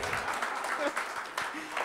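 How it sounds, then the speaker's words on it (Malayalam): An audience at a 200-episode celebration event breaks into applause, with a continuous patter of clapping blending with voices in the hall. "പിന്നെയും കൈയടി വന്നു"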